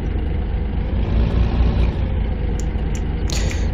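A tractor engine idles in Farming Simulator 15, a loud, continuous low rumble heard close up, with a few brief higher clicks near the end.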